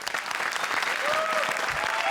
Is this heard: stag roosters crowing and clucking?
no